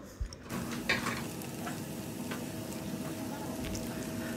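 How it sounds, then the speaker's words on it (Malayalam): Chopped shallots frying in hot ghee and coconut oil give a steady, moderately loud sizzle throughout, with a few faint stirring clicks and scrapes over the pan. "ഇതൊന്ന് ചൂടായ ശേഷം ഇതിലേക്ക് ചെറിയുള്ളി ഇതുപോലെ കട്ട് ചെയ്ത് ചേർത്ത് കൊടുക്കുന്നുണ്ട്. ഇനി ഇത് നന്നായിട്ടൊന്ന് മൂപ്പിച്ചെടുക്കണം."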